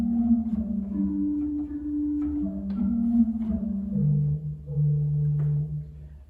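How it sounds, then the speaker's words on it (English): A soft gedeckt stop on the pedal division of the C.B. Fisk Opus 145 pipe organ plays a slow solo line alone, with sustained, gently overlapping low notes moving stepwise in a calm, steady phrase. "The gedect by itself is actually very beautiful as a solo stop."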